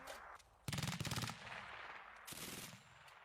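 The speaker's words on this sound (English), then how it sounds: "The MG3 or Maschinengewehr Model 3 is one of the world's most successful machine guns" German MG3 general-purpose machine gun firing a rapid, loud, close burst of about a dozen shots, then a shorter burst after a brief pause, with echoing rumble between.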